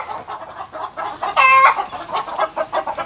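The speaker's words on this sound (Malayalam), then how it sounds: "കോഴികളുടെ സൗണ്ട് ഭയങ്കര ബഹളം വരും" Hens clucking close by in a busy, overlapping chorus, with one louder, drawn-out squawk rising above the others midway.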